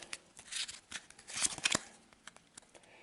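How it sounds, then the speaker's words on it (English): A deck of cards for the Arkham Horror board game is shuffled by hand, a quick flurry of crisp riffling flicks and papery taps in bursts, close and moderately quiet, with no voices. "Let's give it a quick shuffle and a quick cut."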